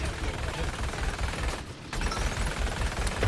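Rapid automatic gunfire mixed with missile launches from the video game Paladins, a dense, loud and continuous burst of shots with a brief lull midway, then resuming at full intensity.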